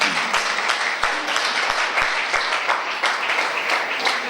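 A church congregation applauds during a worship service with loud, continuous clapping, where individual sharp claps stand out within the sustained crowd applause. Some faint voices mingle with it.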